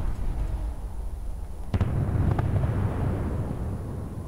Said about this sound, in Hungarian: Fú, te fiú! Milyen robbanás volt az, hallod?